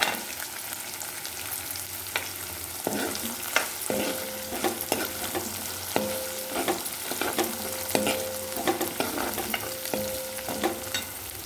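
Vegetables and peeled garlic sauté in a hot pan for quick vegetable rice, a continuous close sizzle broken by regular scraping strokes of a spatula and light clinks against the pan.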